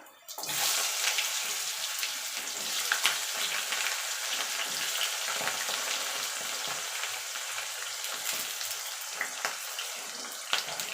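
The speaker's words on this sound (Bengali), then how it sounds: "আলুটাকে লাল লাল করে ভেজে নেবো" Potato pieces frying in hot oil after a whole-cumin tempering for a vegetarian cabbage curry, a steady dense sizzle with small crackles throughout, close and continuous with no talk.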